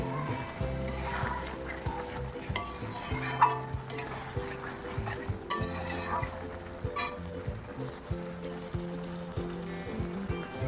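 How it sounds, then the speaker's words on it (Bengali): Chicken coated with turmeric and Kashmiri chilli powder is stir-fried in a pan, with sizzling, repeated scraping stirs and occasional metallic clinks, close up, over a faint background voice. "এবার ভালো করে কষাবো, চিকেনটা ভালো করে এবার কষাতে হবে একটু সময় নিয়ে।"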